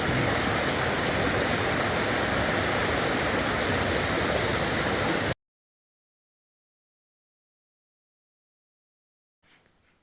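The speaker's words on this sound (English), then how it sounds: "We're going to continue following the stream for a ways. Eliza Brook actually is the name." Eliza Brook, a mountain stream in New Hampshire, rushes in a loud, steady, broadband wash for about five seconds before cutting to silence, and a faint rustle follows at the end.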